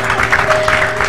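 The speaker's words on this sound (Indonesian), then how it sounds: "tepuk tangan dulu dong buat ibu dan anak" A television talk-show studio audience applauds, a brief, loud, dense wash of clapping with a faint tone underneath.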